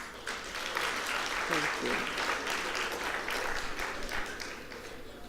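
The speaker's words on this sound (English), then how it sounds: "I'd like you to give a round of applause to yourselves, please." Applause from a convention audience at the SAIBPP 2014 convention, steady and sustained clapping throughout while a voice speaks briefly over it.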